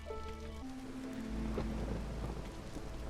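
Rain falls steadily during a thunderstorm in the video game Against the Storm. A low rumble of thunder rolls underneath, and a tonal game sound fades in the first second.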